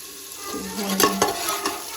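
Brinjal and potato with onion and cumin frying in a pan for a tadka, a soft sizzle broken by a few quick stirring scrapes.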